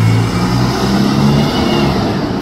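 A heritage service bus engine revving loud and close: a thick, continuous mid-range drone with a throaty low growl that holds steady throughout, with no voices.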